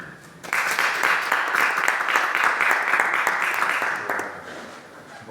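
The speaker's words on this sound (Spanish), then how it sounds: "yo pido un aplauso para Claudio y para Raúl" An audience claps at a book presentation at the University of Murcia, the dense applause breaking in sharply after a brief lull, holding strong and steady, then thinning toward the end.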